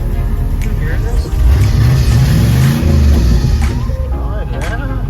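A Cadillac Coupe Deville's engine revs loudly up close, with a rising mid-pitched roar that swells and then eases back.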